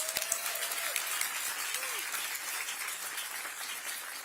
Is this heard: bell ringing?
no